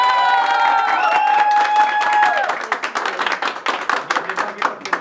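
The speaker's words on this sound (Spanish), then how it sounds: "Y el aplauso para el Mariachi." An audience applauding a youth mariachi band at a birthday celebration: fading trumpet and violin notes ring out first, then a lively crowd claps and cheers with scattered shouts.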